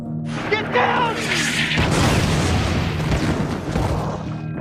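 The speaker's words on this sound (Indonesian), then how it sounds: "Jack yang terpental karena ledakan mortir segera ditolong oleh Black John." A mortar blast in a film scene sends a man flying, heard as a loud booming crash with crackling debris and rumble that sustains for several seconds, dense and close, with speech-like sounds mixed into the chaos.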